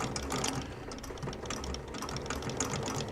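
A sewing machine double stitches a custom shoe, a steady fast mechanical chatter of needle strokes running continuously at close range with no pauses.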